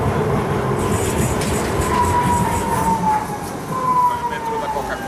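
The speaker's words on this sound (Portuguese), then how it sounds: "metrô da Coca-Cola, metrô de superfície" A Lisbon surface metro tram passes in the street, a loud rumbling roll with metallic squeals rising and falling through the middle, amid outdoor city noise.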